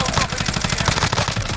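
Rapid automatic fire from a Grau 5.56 rifle in the video game Warzone, a dense, steady string of loud shots that continues unbroken for under two seconds.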